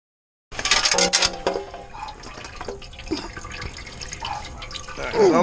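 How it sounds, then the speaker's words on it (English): Transmission fluid draining from a 2010 Dodge Ram 1500 after the pan bolts come out, a steady trickle and splash of liquid with a few sharper clinks, close by and moderately quiet. "I'm going to let this drain for a little bit"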